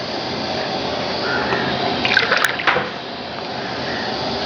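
Two cups of water pour into a pan for upma, a rushing, splashy stream heard close and fairly loud, swelling briefly in the middle before easing back to a steady flow.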